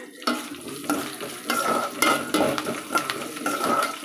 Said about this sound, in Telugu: ఇది 2 ఎండుమిర్చి, కొద్దిగా జీలకర్ర వేస్తున్నా. ఓకేనా, ఇది ఇప్పుడు ఫ్రై చేద్దామా.